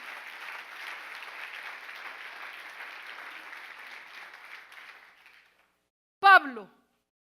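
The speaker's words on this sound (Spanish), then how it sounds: "Dele fuerte ese aplauso al Señor." A church congregation in Rome applauds during a Spanish-language sermon, a dense sustained clapping that fades out after about five seconds, followed by a short loud burst of sound near the end.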